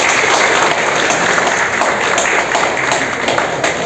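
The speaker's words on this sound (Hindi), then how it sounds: "जोरदार तालियां बजती रहें।" Audience applause breaks out at a felicitation ceremony honouring a tabla player in Giridih, a dense, steady wash of many hands clapping that carries on evenly without a break.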